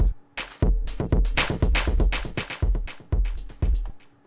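Drum beat sent through a dub echo delay with distortion, punchy hits in a steady pattern with bright, crunchy tails and repeating echoes filling the gaps between strikes.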